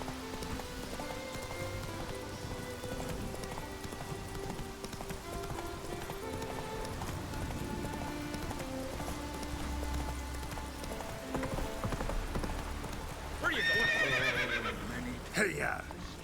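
Horse Roach in the video game The Witcher 3: Wild Hunt, hooves clopping steadily under game music, then a loud neigh and whinny near the end, with talk heard in the background.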